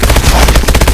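Rapid automatic gunfire from a video game zombie mode, Exo Zombies, fires in a dense, loud, continuous burst of closely spaced shots with no pauses.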